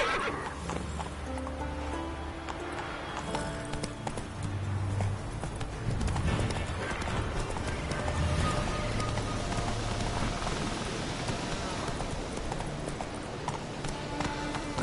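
Horse hooves gallop at a steady clip-clop through The Witcher 3 game world, with whinnies and neighs rising over a continuous bed of game ambience and music, a hint of rain, loud and close throughout.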